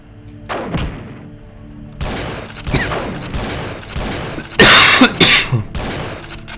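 A person coughs repeatedly, a run of harsh, close bursts that grows louder and rougher near the end, heard alone with no talk.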